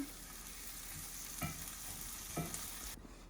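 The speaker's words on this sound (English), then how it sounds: "now we're gonna put the onions in the pan. Then we're gonna move them around a little bit." Onions sauté in a pan with a soft, steady sizzle, broken by two or three light scraping strokes as they are moved around. The cooking stays quiet and close, and no one talks.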